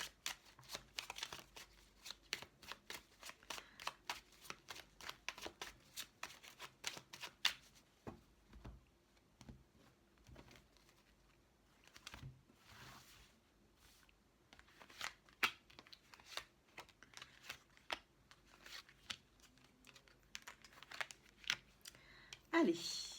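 A deck of oracle cards is shuffled in repeated quick riffles and slides, crisp papery flutters coming in bursts through most of the stretch, fairly close and moderately loud, with no talking.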